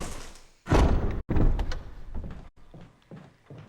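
A mansion door in the Resident Evil video game swings open with a heavy thud and creak, followed by a second loud slam and quieter footsteps or shuffles afterward.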